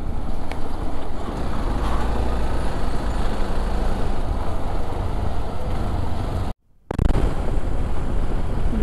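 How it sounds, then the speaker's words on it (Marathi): Heavy trucks and tankers labour slowly up a steep ghat road on the old Mumbai–Goa highway, a dense, continuous low engine roar mixed with wind buffeting, broken by a brief dropout near the end. "इथे काही काही ट्रक टँकर जे काही आहेत ते वरती चढतच नाही आहे."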